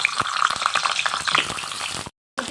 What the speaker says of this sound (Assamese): এতিয়া মই পটলখিনি অলপ ফ্ৰাই কৰি ল'ম